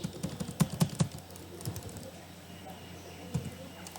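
Code being typed on a computer keyboard, a quick run of clicky keystrokes up front followed by a few scattered taps, close and moderately loud with no talking.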